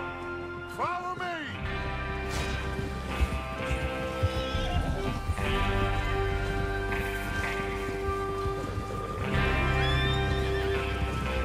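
Horses in Red Dead Redemption 2 whinny and neigh loudly near the start and again around the end, with clip-clop hooves and galloping running steadily throughout over a dense game soundscape.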